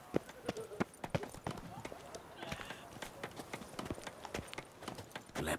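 Steady hoof clip-clops of a horse in The Witcher 3: Wild Hunt trot along in a brisk rhythm, close and clear, with faint background sound and no voices.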